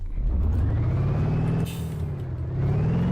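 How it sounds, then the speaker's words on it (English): Simulated car engine from BeamNG.drive with the Better Engine Sounds mod, a loud steady drone whose pitch sweeps down and back up, briefly dipping mid-clip with a burst of hiss before revving again. "I think the sounds are from a mod that's called Better Engine Sounds or something like that"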